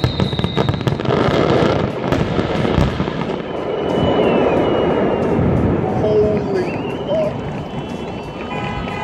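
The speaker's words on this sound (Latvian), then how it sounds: "tagad skatīsimies salūtu" Fireworks explode in a dense, loud barrage of cracks and booms with crackling bursts and a few whistling rockets, continuous throughout with background chatter.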